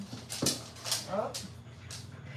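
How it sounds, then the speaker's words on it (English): A dog gives a few short, close barks and whimpering yips, spaced irregularly across a couple of seconds over a low background hum. "she's barking"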